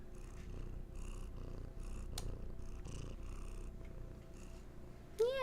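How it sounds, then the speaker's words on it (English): Close-up purring from a cat at a microphone, a rumbling rhythmic purr in repeated breathing cycles, loud and near, ending with a short meow-like chirp. "Yeah, just purr in that microphone."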